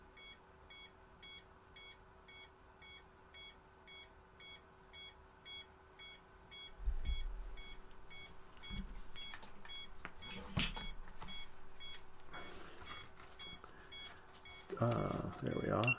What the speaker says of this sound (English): that beeping's not going to do justice